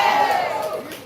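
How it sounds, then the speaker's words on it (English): An audience at a live poetry show cheers and applauds together in a loud, short burst of crowd noise that fades slightly toward the end. "Y'all applaud the mother, applaud the mother."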